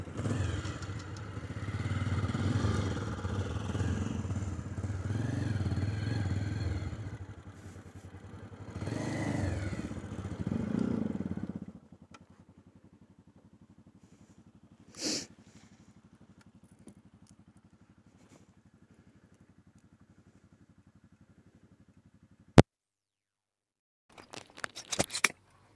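A Pulsar 220 motorcycle rides along a mountain road near Prashar Lake, its steady engine drone filling the first twelve seconds before dropping to a faint idle-like hum with a few sharp clicks and clatters.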